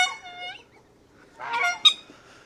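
Geese at a farm goose pond honk a few times: one brief call, a pause, then a burst of louder honks close by, with no voices.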